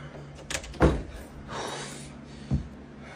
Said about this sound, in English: Out of nowhere, a door closes by itself, much to the uploader's shock.